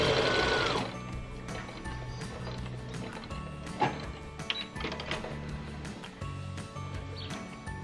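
A sewing machine runs a test line of stitching through layered quilt fabric, a steady close mechanical rattle with a brief louder burst at the start, continuing without talk.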